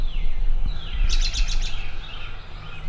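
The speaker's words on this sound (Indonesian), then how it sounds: "pagi-pagi di Amerika itu suara burungnya itu banyak banget" Several birds chirp and trill in a quick burst against steady outdoor background noise, fairly close and clear.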